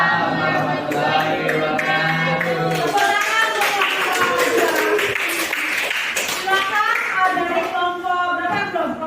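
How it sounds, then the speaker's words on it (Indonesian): Classroom applause from students, a dense run of clapping mixed with voices and chatter throughout, fairly loud and close. "Tepuk tangan untuk"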